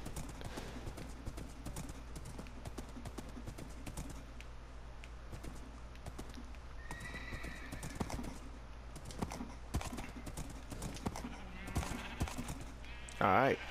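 Mini horses in Minecraft clip-clop with quick, irregular hoofbeats that run throughout, up close and soft, under a player's ongoing chatter and a few faint game sounds.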